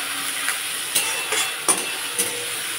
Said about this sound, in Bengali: তার জন্য পেঁয়াজটা দিয়ে দিলাম।